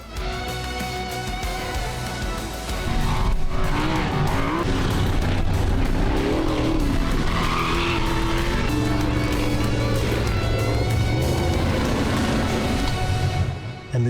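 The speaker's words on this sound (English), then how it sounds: "The V8 drivers use the day to test, adjust, repeat, until the cars feel as quick and stable as possible." V8 race cars lapping a circuit during a test day, engines roaring loud and continuous with passing revs and brief tire squeal throughout, music-like harmonics layered over the engine noise.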